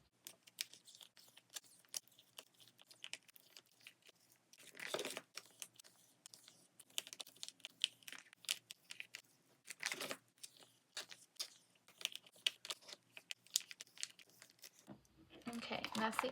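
Sleeved photocards being slid into plastic slim pages, with soft crinkling rustles and quiet clicks in irregular bursts, a louder scrape near the end, and a low voice occasionally heard.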